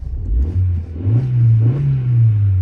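Car engine revving after a throttle body and ECU replacement, with a steady low hum that climbs and holds in two rising revs, close and loud, with no talk.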